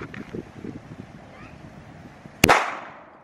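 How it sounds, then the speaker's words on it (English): A Glock 26 fires a single 115-grain 9mm full metal jacket round into a stack of 2x4s: one sharp, loud gunshot crack with a short decaying tail, after a stretch of quiet low background noise. "for the 9mm, I'm gonna use the Glock 26"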